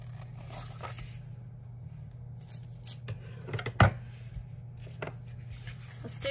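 Scissors trimming paper for a Happy Planner layout, a few soft snipping and rustling strokes with one sharper cut near the middle, close and quiet over a low background hum.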